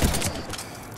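Heavy gunfire in the shooter game Mass Effect 3, a dense burst of shots and low thumps in the first quarter second, then fading into a steady rumbling combat din with scattered faint reports.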